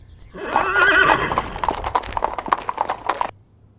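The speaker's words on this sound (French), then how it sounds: "il entendit un bruit de chevaux qui s'approchaient de l'endroit où il travaillait." Horses draw near through a forest, a loud whinny followed by a quick, clattering run of hoofbeats that stops abruptly.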